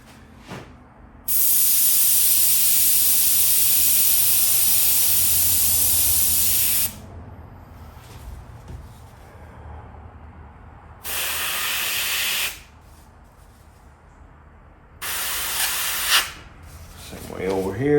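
Airbrush spraying paint onto smoke skull artwork, a loud steady hiss lasting about five seconds, followed by two shorter bursts, with quiet gaps between.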